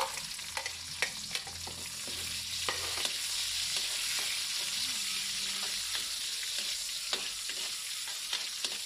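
Onions sauté in a hot pan for a Kapampangan-style stir-fry of squash shoots, giving a steady close sizzle broken by occasional scraping stirs, with no talking.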